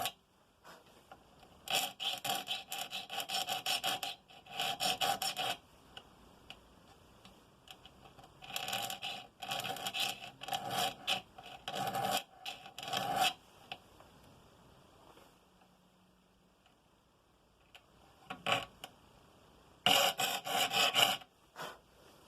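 Rasping strokes of a file across handsaw teeth during sharpening, coming in close, loud bursts of several even strokes each, separated by quiet pauses.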